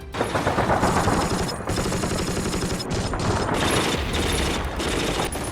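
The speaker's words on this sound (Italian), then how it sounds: "I soldati la chiamavano la sega di Hitler, 1200 colpi al minuto." A World War II German MG42 machine gun, firing about 1,200 rounds per minute, rattles in long, dense bursts broken by a few brief pauses, loud and close.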